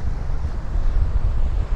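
Strong wind on a foggy 4th Avenue street in Bay Ridge, Brooklyn, buffets the microphone with a steady, loud, low rumble and gusty roar throughout; no speech.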